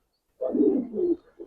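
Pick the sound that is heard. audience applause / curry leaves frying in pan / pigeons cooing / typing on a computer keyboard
pigeons cooing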